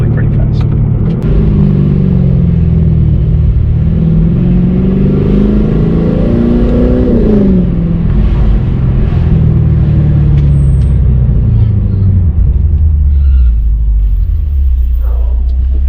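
A 2017 Lexus RC F V8 rumbles loudly as it approaches and revs, its pitch climbing and then falling away as it settles into a low idle, with voices talking over it.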